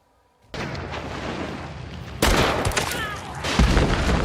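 Gunfire in the video game Hunt: Showdown from the Scotfield Spitfire revolver, heavy booming shots that burst in suddenly after a moment of quiet, with loud rolling reports and echoing tails, with later blasts even louder and no talk.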